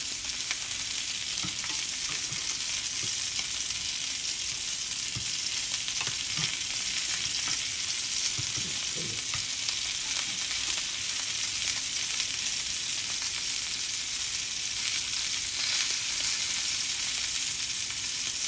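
A sous vide London broil sears with garlic in a hot pan over medium-high heat, giving a steady, dense sizzle and crackle throughout, with occasional scraping and stirring knocks and no talking.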